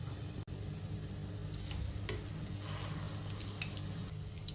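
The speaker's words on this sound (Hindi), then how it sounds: "बिल्कुल हल्की आंच पे इनको फ्राई कीजिएगा ताकि हमने जो चीज़ डाला है वो अच्छे से मेल्ट हो जाए" Chicken cheese balls fry gently in oil in a kadhai over a low flame, giving a soft, continuous, even sizzle that stays close and steady with no voices.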